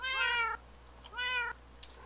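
Two cats give two distinct drawn-out meows in quick succession, close and clear, with a short quiet gap between them.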